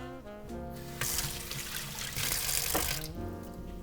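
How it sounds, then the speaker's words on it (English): A potato being washed under a running kitchen tap, with water splashing and gurgling for a few seconds at close range, growing louder in the middle, with no voices. "Give your potato a little wash."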